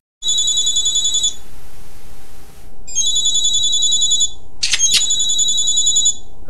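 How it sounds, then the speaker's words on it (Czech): An electronic telephone ring repeats in bursts with brief pauses, loud and close, with a sharp clatter partway through. "zvoní ti telefon."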